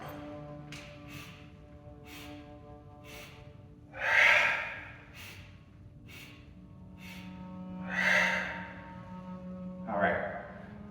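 Yoga breathing exercise paired with arm movements, front, side, overhead and folding forward: steady audible breaths recur, with three strong, close exhales or inhales spaced a few seconds apart against a quiet room hum.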